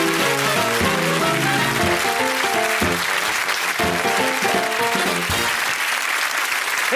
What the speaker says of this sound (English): Clive and Louise, all our contestants, will you give them a round of applause?